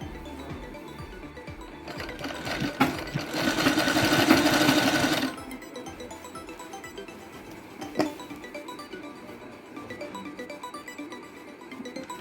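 A sewing machine stitches a sleeve onto a kurti top, running in a loud, fast whirring burst for a few seconds before falling to soft clicks and light handling noises.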